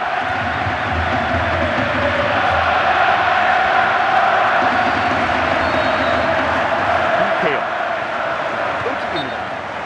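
A large crowd roars continuously in a stadium during a football match, a dense, loud wash of cheering and chanting that holds steady throughout, with a voice talking over it.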